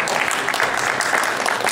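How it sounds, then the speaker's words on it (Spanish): An audience applauds a work team in a steady, dense burst of clapping that fills the whole short stretch with no speech. "me parece que ese equipo merece un aplauso"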